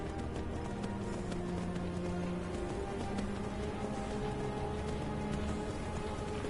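Horse hooves clopping in the video game Skyrim, a steady, busy patter of hoofbeats mixed with rain-like ambience, running evenly throughout at moderate level.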